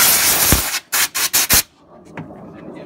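A long hiss of compressed air sprays into a car's body where the tail lights were removed, then four short sharp bursts in quick succession, followed by quieter handling noises.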